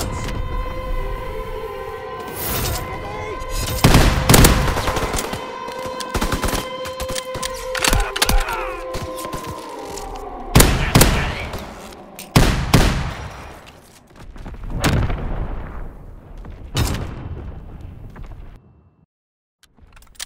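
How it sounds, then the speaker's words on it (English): A carpet bombing run in the Call of Duty: WWII multiplayer game: loud, repeated blasts and bursts of gunfire over a wailing siren-like drone, with heavy impacts coming in clusters before fading near the end. "Carpet bombing run inbound."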